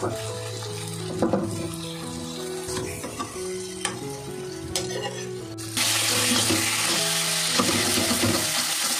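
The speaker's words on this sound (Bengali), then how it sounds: "দেখো মশলাটা অলরেডি কষানো হয়েই গেছে, মশলা থেকে তেল বেরোচ্ছে। এবারে এর মধ্যে টমেটো কুচানো ছিল সেগুলো দিয়ে দিল।" Chopped tomatoes going into a spice paste already fried until the oil separates, for Kolkata Golbari-style mutton kosha; loud continuous frying and stirring over background music, the sizzle growing sharper and denser in the last few seconds.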